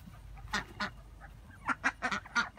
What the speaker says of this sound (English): Okay, here are the ducks.